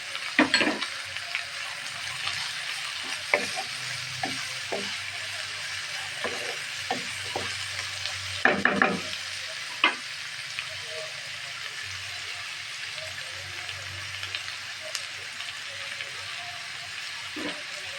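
Cabbage and chopped chilies stir-fried in a pan for fried rice, a steady close sizzle with scattered scraping stir strokes and a few sharper clatters, with voices talking faintly now and then.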